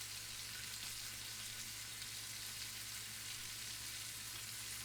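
Steak searing in a hot pan, a steady, even sizzle with faint crackling that stays constant throughout, fairly quiet under a low background hum, with no voices.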